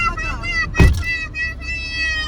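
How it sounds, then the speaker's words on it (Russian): A bus bound for Odessa idles nearby on an Athens street, its engine giving a steady hum with a high tonal whine and a short louder burst midway, while people talk close by. "Вот он, наш автобус одесский."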